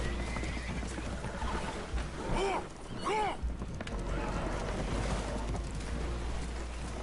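Spooked horses whinny in Red Dead Redemption 2 aboard a leaking boat, two rising neighs close together mid-clip over steady rushing water and rain-like noise with hoof clatter.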